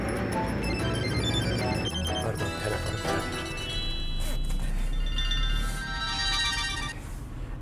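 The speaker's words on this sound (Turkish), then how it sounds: "Pardon, telefonu." A mobile phone ringtone plays loud and continuous for several seconds, a bright electronic melody over a steady background of room noise, with no talking over it.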